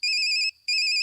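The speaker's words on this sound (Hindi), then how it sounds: "Fakhru they phone." A mobile phone ringtone rings loud and close in a Bollywood film scene, two bright electronic bursts separated by a short pause, with no voices.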